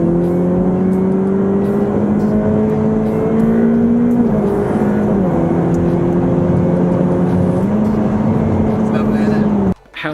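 A Ferrari F8 Tributo with a 3.9-litre twin-turbo V8 pulls hard, its loud engine tone climbing through several gear changes with short dips between them, heard from inside or nearby, before cutting off abruptly at the end.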